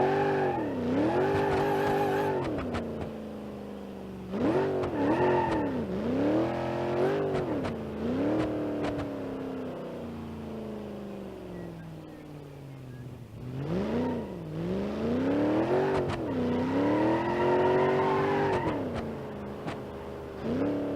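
A simulated car engine in BeamNG.drive, the Granny Cart project build, revs hard near 6000 rpm in loud surging waves, climbing and falling repeatedly with a steady droning tone and no talk.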